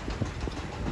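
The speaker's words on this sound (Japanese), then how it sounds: "じゃあ発車してどうやって動いていくか、そのグネグネ具合を確かめたいと思います。" Tobu Railway train pulling away from a platform over winding, snaking tracks, a low steady rumble with faint wheel clatter, heard at a moderate distance with no talk.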